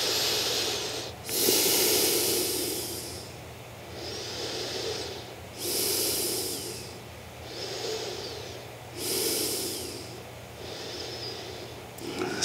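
Slow, deep breaths during a yoga forward fold, each long airy inhale and exhale rising and fading in a steady rhythm, close and alone.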